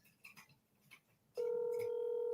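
Telephone ring on speakerphone: after faint shuffling, a steady electronic ringback tone starts abruptly and holds loud and continuous to the end, with no talking.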